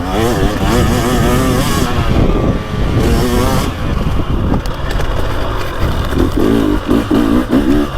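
A 2024 Beta 300 Race Edition two-stroke dirt bike with TBI engine rides a woods trail, its engine loud and close throughout, revving up and down with rising and falling pitch as the throttle changes.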